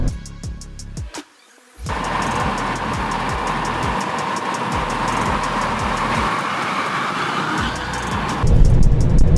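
A 2021 Mercedes-Benz E220d AMG Sport facelift diesel picks up at high speed, its drone and road roar swelling after a short quiet gap and growing louder near the end, with rhythmic ticking pulses throughout.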